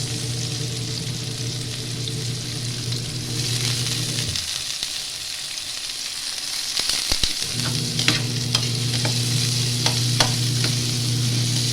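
Onion frying in a pan: a constant close sizzle over a steady low hum that cuts out for a few seconds midway while crackling and clicks continue, then the hum returns under brighter spattering and stirring clicks.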